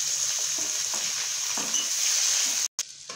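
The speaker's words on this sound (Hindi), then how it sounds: "ये तो मसाला हम लोगों ने फ्राई कर लिया हल्का सा" An onion, ginger, garlic and tomato masala frying in a pan, with a steady close sizzle and occasional stirring knocks, then a brief dropout near the end.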